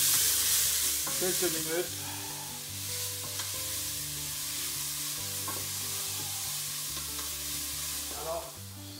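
Rice and vegetables fry in a pan with a continuous soft sizzle and occasional stirring scrapes, while a voice speaks briefly in the background.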